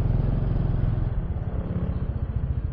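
A nearby motorcycle engine idles loudly and steadily, with a low pulsing chug and some clatter throughout.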